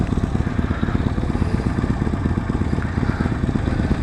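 A Harley-Davidson Sportster 48 motorcycle engine idles through a stock exhaust, a steady low, lumpy rumble with a fast pulsing beat, close and loud throughout.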